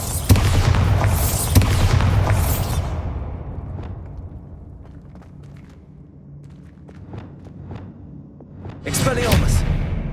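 Bombarda blasting spell going off in the Hogwarts Legacy video game, a loud booming burst with rumbling tail at the start, quieter rumble through the middle, and another sharp blast near the end, under game talk.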